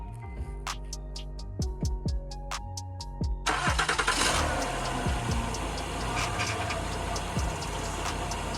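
A Honda Odyssey engine, freshly reinstalled, cranks with a rhythmic starter whir for about three seconds, catches, and settles into a loud, steady idle up close with no talk.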